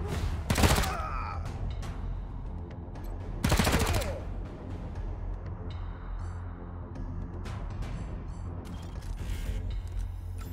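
Gunfire in the turn-based game Wasteland 3, two short, loud bursts of shots early on, followed by quieter mechanical clicks and effects over a steady game backdrop.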